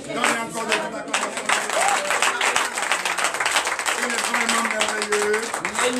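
A church congregation at a Sunday worship service in Comè, Benin, breaks into sustained applause with crowd noise and cheering, loud and continuous throughout, with voices mixed in.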